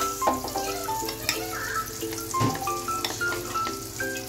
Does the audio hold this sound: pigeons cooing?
no